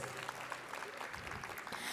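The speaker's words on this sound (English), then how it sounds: "Can we give her a huge round of applause" Audience applause at a convocation ceremony for FDDI Hyderabad, a steady wash of clapping from a seated crowd in a hall, moderately quiet and continuous for a couple of seconds with faint voices mixed in.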